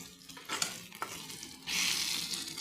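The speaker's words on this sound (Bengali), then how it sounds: "কড়াইতে তেল দিয়ে দিয়েছি" Oil in a kadai for a home-style chicken curry sizzles softly with some stirring scrapes, then breaks into a louder, steady hiss near the end.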